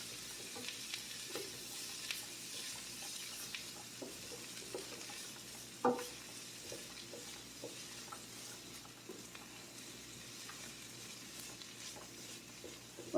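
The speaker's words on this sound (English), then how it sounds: "Now this will cook down a little bit." Zucchini sizzles quietly as it cooks down in a pan for an egg scramble, a steady soft frying hiss with occasional stirring clicks and one sharper utensil knock.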